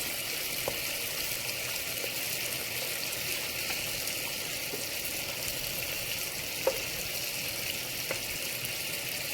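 Steady hissing sizzle of water hitting a hot frying pan of creamy mushroom sauce, continuous and close, with a few faint clinks of utensils.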